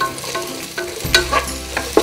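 Raisins stirred in hot ghee and oil while making veg fried rice, with a steady close sizzle and a few sharp spoon scrapes and clinks against the pan.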